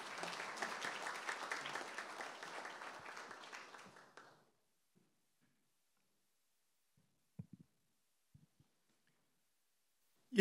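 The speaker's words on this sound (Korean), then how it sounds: "나오실 때 힘찬 박수로 맞이해 주시기 바랍니다" Applause from the audience at a Jeonju University 61st-anniversary honorary doctorate ceremony welcomes the university president. Dense clapping fills the first four seconds, then fades into near silence broken by a few faint knocks and rustles.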